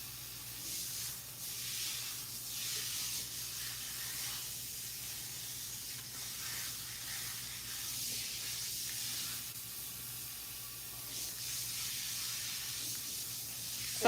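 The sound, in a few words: water spraying while rinsing hair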